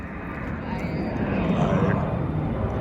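Airplane flying overhead near an airfield, a steady broad roar that swells slightly across the short stretch, loud and continuous outdoors while people talk over it.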